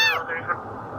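A tiny one-month-old kitten, just rescued from a crack under a concrete barrier, gives a high, thin meow that falls in pitch, followed by a couple of weaker mews, close to the microphone.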